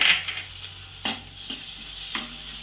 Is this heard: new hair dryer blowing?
no